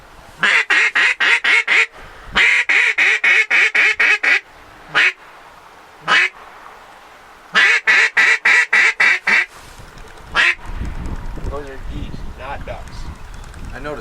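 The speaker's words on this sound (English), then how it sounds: "There's a whole bunch of ducks coming in back." Ducks come in overhead, their quacks forming repeated loud bursts of rapid calls in several volleys, with someone speaking briefly between them and wind-like rumble toward the end.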